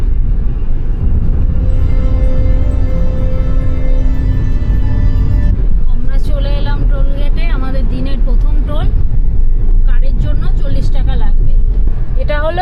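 A car cruising along a national highway on a road trip from Patratu to Kolkata, a steady loud engine and road rumble from inside the cabin, with a voice talking over it.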